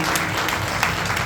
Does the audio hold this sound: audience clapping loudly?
yes